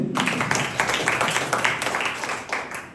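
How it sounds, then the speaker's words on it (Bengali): An audience claps at a stage event honouring a new rank achiever, making continuous, fairly loud applause with sharp individual claps standing out across the whole stretch. "তাদের জন্য একটা হাততালি চাই।"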